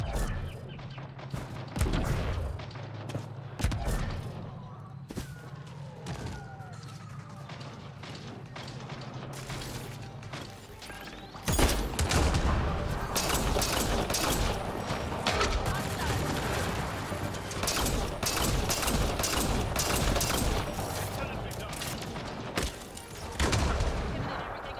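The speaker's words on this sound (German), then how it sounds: "Und da höre ich auch Schüsse." Gunfire in the video game Mass Effect Andromeda: bursts of sharp shots and clattering volleys, sparse at first and then dense and loud after midway, with someone talking over parts of it.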